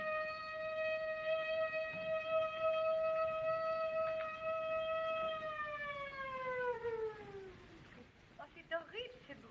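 A wailing siren drones loud and steady through a foggy night, holding its pitch for several seconds before sliding downward and fading, with faint voices breaking in at the end.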